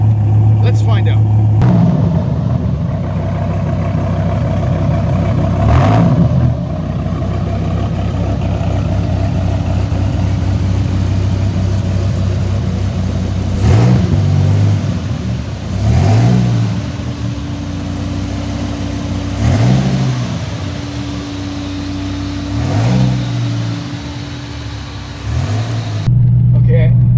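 Dodge Viper fitted with a Belanger exhaust revs repeatedly in a series of loud, deep bursts over a steady rumbling idle, with talk running underneath throughout.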